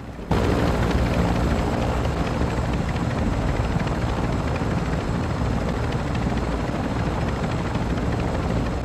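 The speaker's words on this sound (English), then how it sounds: "so start lowering the plane" Loud, steady aircraft engine roar fills the whole stretch without a break, a continuous rotor-like drone as a plane is lowered toward landing in the game DMZ.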